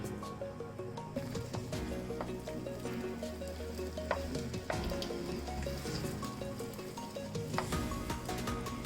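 Sevai rice noodles stirred continuously in a pan, with a steady close sizzle and frying crackle under soft squishing scrapes of the spoon against the bottom.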